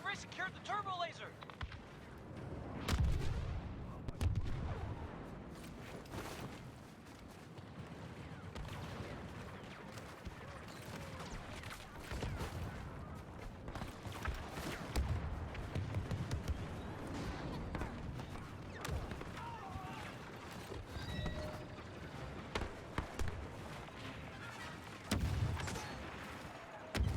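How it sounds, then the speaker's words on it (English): Turbo laser firing in a video game, heard as repeated booming blasts and crackling gunfire scattered across a long stretch of battle noise, with voices talking throughout. "Firing the turbo laser."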